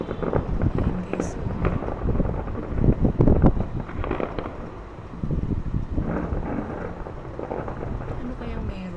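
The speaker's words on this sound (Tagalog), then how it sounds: "Lakas ng hangin." Strong wind near Kingdom Tower in Riyadh buffets the microphone in heavy, rumbling gusts that rise and fall, with a person speaking intermittently beneath it.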